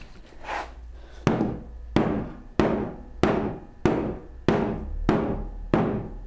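Eight sharp hammer knocks on a wooden part of a Shaker Enfield cabinet, spaced evenly about two-thirds of a second apart. Each blow is close and loud and is followed by a brief ringing decay.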